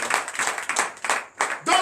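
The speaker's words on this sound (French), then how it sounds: "Donnez de vive acclamation à notre Seigneur." A congregation at a night deliverance and prophecy service in Comè, Benin claps in acclamation, several sharp rhythmic bursts of hands mixed with voices and shouts, ending in a louder vocal cry.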